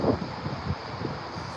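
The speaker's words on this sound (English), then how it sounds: "It's really windy today." Strong wind gusts buffet the microphone on a windy day among thrashing palm trees, a low rumbling rush that swells and eases in uneven puffs, fairly faint overall.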